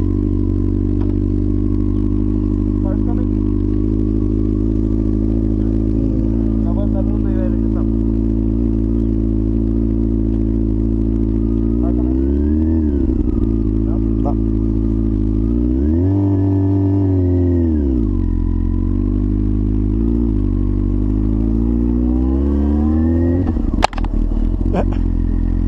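A motorcycle engine idles and revs close by as a first-time rider shifts gears badly, the pitch rising and dipping unevenly over a steady low rumble, with a sharp clack near the end.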